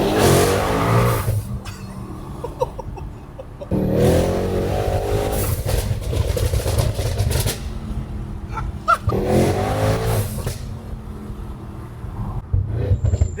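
A Mercedes-AMG E63s with a full titanium exhaust and downpipes revs during a burnout. Three loud, aggressive blips rise and fall, each separated by a few seconds of lower rumbling.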